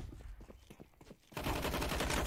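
Rapid bursts of gunfire in a CS:GO match, faint at first with scattered shots, then a loud continuous volley of bullets near the end.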